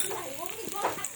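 Spices with ginger paste being stir-fried in mustard oil in a pan, a soft sizzle with scraping stirs, quiet and close, while someone talks over it.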